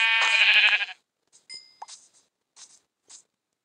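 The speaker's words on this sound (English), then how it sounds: "Aha, there's a sheep." Sheep bleating in the Minecraft video game, one loud harmonic bleat at the start followed by a few short, faint game sound effects, with no talking.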